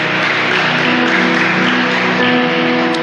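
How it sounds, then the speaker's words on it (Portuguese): A church congregation applauding, a dense and steady wash of clapping from many hands that holds at a loud level throughout with no pauses. "Então vamos aplaudir ao Senhor em nome de Jesus."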